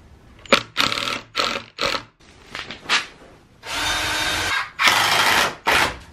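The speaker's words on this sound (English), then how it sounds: "I glued and screwed the blocks into place on the apron." A power drill driving screws through wooden blocks into a dining table apron, several short bursts of whining motor followed by two longer runs, loud and close with brief pauses between.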